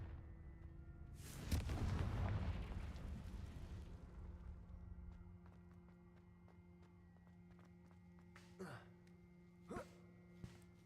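A Confringo blasting spell in Hogwarts Legacy bursts into one loud, rumbling explosion that decays over a couple of seconds, followed by a few fainter, sharper impacts in a quiet game scene.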